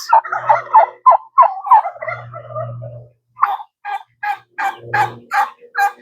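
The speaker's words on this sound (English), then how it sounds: "Hard to hear them over the turkey" A turkey gobbling in rapid rattling bursts, repeated several times with short pauses, close and fairly loud.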